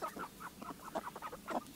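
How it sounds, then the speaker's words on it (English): Bielefelder hens cluck close by in a quick, irregular run of soft, throaty clucks and brief murmuring calls, several birds overlapping with short pauses between bursts. "These are the Bielefelder females. They're definitely our most inquisitive birds."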